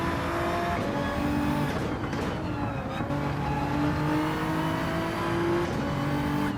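In Gran Turismo 7 at Autopolis, a race car's engine note steps down through gear changes as it slows for a corner, with loud, continuous engine whine.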